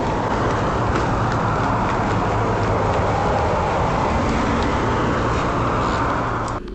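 A car drives near a property off camera at night: a steady low road rumble and engine drone holds throughout, moderately loud, then drops away at the very end.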